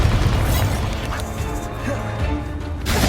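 A blasting curse explodes in the Hogwarts Legacy game, a dense low boom that rumbles on for a few seconds amid other crashing effects, with a voice calling out spells over it.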